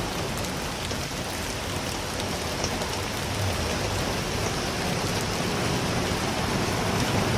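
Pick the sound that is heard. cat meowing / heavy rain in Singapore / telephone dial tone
heavy rain in Singapore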